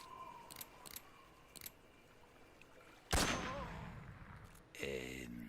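A sniper rifle shot in Metal Gear Solid 3, one loud sharp report about midway with a decaying tail, set among quieter clicks, followed by a second harsher burst near the end.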